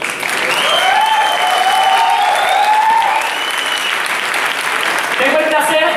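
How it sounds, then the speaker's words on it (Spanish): A large audience at a live dance and hosted stage show applauds loudly and steadily for several seconds, a dense wash of clapping with a voice speaking over it. "un aplauso por favor"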